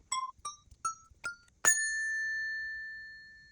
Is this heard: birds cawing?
no